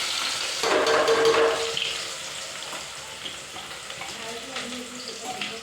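Onion drops into hot oil already crackling with mustard seeds and cumin, and a close, bright sizzle swells for a second before settling into a steadier, softer frying hiss.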